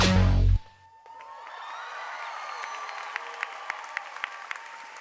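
Graduation audience at a business school ceremony applauding in a loud burst that quickly fades, leaving a lighter spread of claps with a few sharp single claps standing out near the end.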